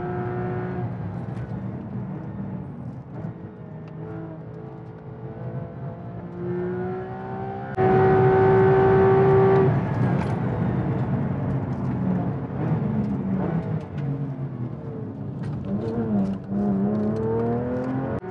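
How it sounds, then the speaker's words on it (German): A Porsche 991 GT3 RS engine pulling hard under acceleration on a drive, a continuous loud drone whose pitch climbs and then steps up sharply partway through, with no voices. "Schön früh aufs Gas. Das ist ganz wichtig hier beim GT3 RS, dass wir hier wirklich immer schauen, diese Geschwindigkeit mitzunehmen."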